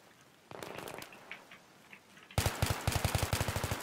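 Gunfire in an online team shooter match, scattered distant shots and then a close, loud burst of rapid automatic fire with evenly spaced cracks.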